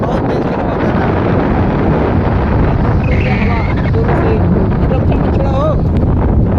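Strong wind gusting across an open township in a power valley, a constant loud roar buffeting the microphone throughout, with a voice speaking faintly beneath it.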